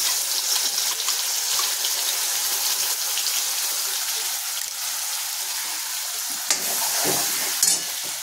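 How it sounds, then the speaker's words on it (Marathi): Ground spice paste with asafoetida frying in hot oil, a dense, even sizzle like steady rain held close, with a couple of brief louder clatters near the end and no talk. "मसाला छान भाजला जातोय, मस्त तेलही सुटत आले त्याला"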